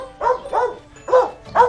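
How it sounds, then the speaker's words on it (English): A dog barks four times in quick uneven succession, close and clear, each bark short and sharp with brief quiet gaps between. "It is a dog barking."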